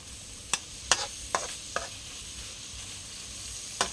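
Long beans tossed into a hot stir-fry pan, which hisses softly. Five sharp scraping clacks from a spatula or ladle land at irregular intervals, and no one talks.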